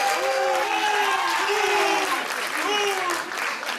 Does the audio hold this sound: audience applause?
yes